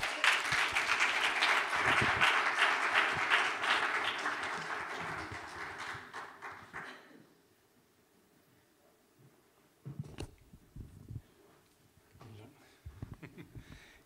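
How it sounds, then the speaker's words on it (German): Audience applause fills a hall at a stage event for about seven seconds, then fades away, followed by a speaker's voice and scattered quieter sounds. "Ein Applaus bitte."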